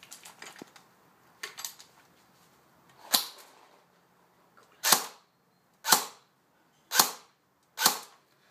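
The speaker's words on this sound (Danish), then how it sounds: "I det der skyder vi semi-automatisk." An airsoft AK rifle, an AK-105 or AK-47 style gun, firing semi-automatic: several faint clicks early on, then five sharp, evenly spaced single shots, close and clean with no talking.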